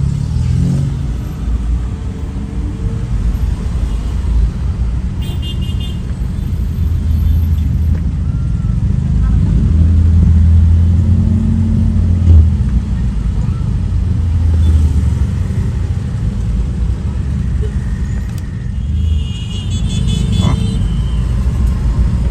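A traffic jam on Jalan Perintis Kemerdekaan in Makassar, with cars and motorcycles idling and creeping forward. Continuous low engine rumble with occasional revving and passing motorbikes, and faint voices at times.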